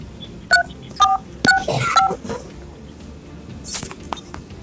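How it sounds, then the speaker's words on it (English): Phone keypad DTMF tones are tapped in short distinct beeps, four quick presses in an irregular rhythm, while entering a one-time code into a bank's automated IVR phone line, followed by faint handling noise. "Use your phone's keypad to tap in the number supplied by Alphabot."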